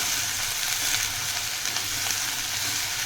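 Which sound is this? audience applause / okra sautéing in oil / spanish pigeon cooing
okra sautéing in oil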